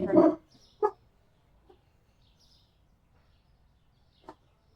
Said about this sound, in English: Man, they bark so loud.